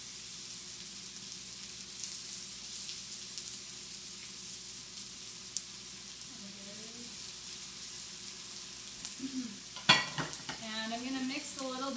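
Japanese udon noodles cook in a pan, giving a steady soft sizzle and stirring noise at moderate distance. Faint voices and a brief clatter near the end sit under it.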